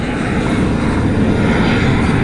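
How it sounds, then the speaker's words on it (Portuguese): A small jet aircraft passes near an airfield, its engine a loud, steady, broadband roar that fills the whole stretch without a break. "ó o jatinho"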